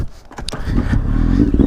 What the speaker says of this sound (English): See if we can bump start this real quick